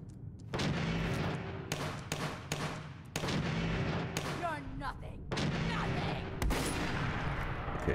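Gunfire in a modded Fallout 4 wasteland fight: loud rapid bursts of shots start and stop in uneven volleys, with a voice occasionally speaking between them.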